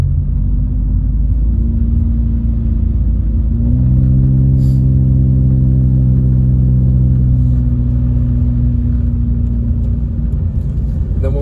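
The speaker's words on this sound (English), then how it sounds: "oh wow, there's a lot of traffic." Cars move through a town after snowfall, a steady low engine rumble with vehicles passing and idling close by, one engine note rising and holding for a few seconds midway, with no clear talk over it.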